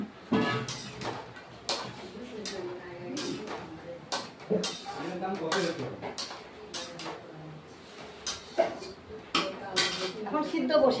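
Dried soybean chunks tipped into a wok of hot water while cooking soya, heard as a run of clattering knocks and clinks mixed with ongoing talk.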